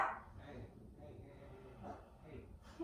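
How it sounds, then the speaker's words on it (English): A puppy gives a few faint, short barks and whimpers indoors, quiet and intermittent against low background noise. "My puppy's upset about something, I'm sure you can hear."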